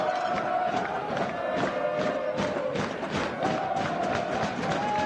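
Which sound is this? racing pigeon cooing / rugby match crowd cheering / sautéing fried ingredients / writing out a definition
rugby match crowd cheering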